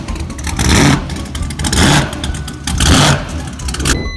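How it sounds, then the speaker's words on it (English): A small Volkswagen car's engine rumbles and revs in loud repeated swells, giving a deep throaty tone like a big block V8 with a heavy cam, with no talking over it. "your little VW sounds like a big block 454 with a big ass cam"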